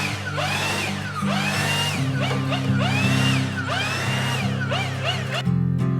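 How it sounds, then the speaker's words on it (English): A Milwaukee leaf blower runs close by in a repeated rising and falling whine, each sweep swelling and fading in a steady rhythm, loud and alone with no talking. "nothing beats the power of a Milwaukee leaf blower"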